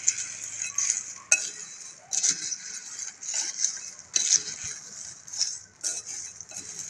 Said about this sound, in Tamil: இப்போ இது எல்லாத்தையும் மிக்ஸ் பண்ணிக்கலாம்.